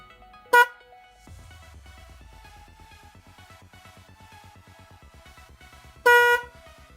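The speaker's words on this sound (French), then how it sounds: "Et tout de suite on entend le bruit du klaxon." A boat-style horn fitted to a Suzuki Bandit 400 motorcycle sounds two separate loud blasts, a short one near the start and a longer one near the end, with a low steady rumble between them.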